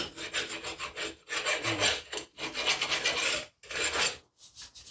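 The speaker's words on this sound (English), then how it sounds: "There's a lot of rust inside there. We want to get rid of that buildup. So we'll get a file." A metal file rasps rust buildup off the hub of a 2014-2018 Jeep Cherokee Trailhawk front brake assembly in quick, repeated strokes, loud and close, with brief pauses between bursts.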